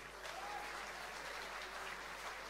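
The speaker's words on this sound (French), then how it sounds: "Merci d'applaudir." Audience applause at a launch evening, a short steady burst of many hands clapping at moderate distance, fairly quiet and even throughout.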